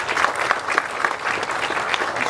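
An audience at a ground-breaking ceremony for a new data center claps steadily and fairly loudly, a dense patter of many hands that continues with no voices over it.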